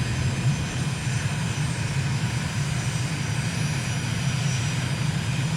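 A MiG jet in a flight simulator comes in to land with gear and flaps down, its engine giving a steady, unbroken roaring drone with a constant low rumble and airy hiss throughout.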